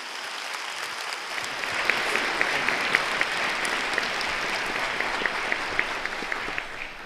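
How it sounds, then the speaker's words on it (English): An audience at a Cal Poly San Luis Obispo gathering bursts into sustained applause, the clapping swelling over the first couple of seconds and then holding as a dense, even roar of hands. "let's give him another big round of applause"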